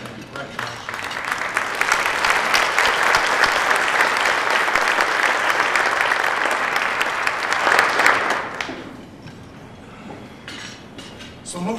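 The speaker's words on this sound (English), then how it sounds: "I'd like to ask Pastor Houston and Champers to please stand up so this crowd can recognize you" A crowd at a city's State of the City address applauds steadily as two pastors stand to be recognized, a dense, loud roll of clapping lasting about eight seconds before fading to quieter murmuring.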